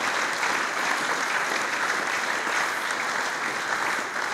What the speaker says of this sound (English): A round of applause for each and every one of them.